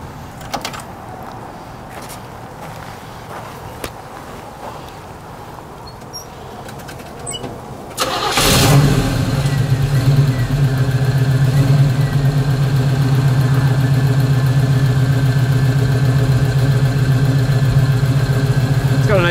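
A 1969 Camaro engine with a 750 carburetor cranks and catches, then settles into a steady, loud rumbling idle after several seconds of quieter background noise.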